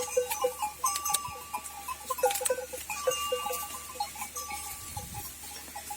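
Lambs out on a night pasture bleat in short, scattered calls while chewing reeds, the cries coming close and in an irregular rhythm against a quiet rural background.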